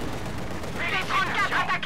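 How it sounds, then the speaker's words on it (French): Gunfire crackles in Company of Heroes 2, a World War II strategy game, during the Operation Barbarossa push toward Moscow, with tank combat nearby. The shots come as a short, dense volley over steady battlefield noise, with voices audible beneath. "Soldats du génie, on vous tire dessus."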